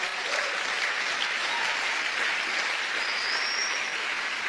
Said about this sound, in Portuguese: Você pode aplaudir o Senhor por essa palavra?